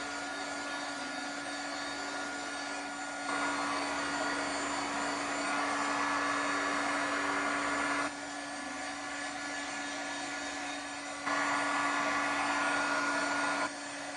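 A hair dryer blows hot air over an alcohol ink craft piece. It is a steady, loud whirring drone that holds for the whole stretch and steps up and down in intensity a few times, with no talk.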